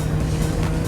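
A Vauxhall VX220 sports car on a track, its engine holding a loud, steady, close drone for about a second with no voices over it.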